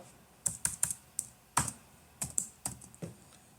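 Crisp, close keystrokes on a computer keyboard as a command is entered, about a dozen distinct taps in uneven bursts against a quiet background.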